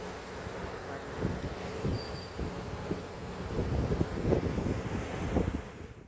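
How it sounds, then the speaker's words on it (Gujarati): Steady wind rumbles and gusts across the microphone outdoors, a low continuous roar that swells and eases, with faint background noise. "અત્યારે મસ્ત ઠંડો પવન ચાલુ"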